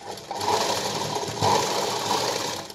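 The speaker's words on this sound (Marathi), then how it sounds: "आता ज्या साईडने आपण दोरे टाकली तिथं आपल्याला शिवून घ्यायचं आहे" A sewing machine stitches a blouse latkan in a continuous close, rattling hum with slight surges, alone without talk.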